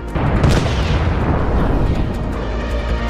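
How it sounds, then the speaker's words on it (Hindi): A grenade dropped by a drone explodes on a Russian boat: a loud, deep blast that rolls into a sustained rumbling roar lasting several seconds. "एक बड़ा धमाका होता है और उस नाव पर बैठे सभी सैनिक पानी में कूद जाते हैं।"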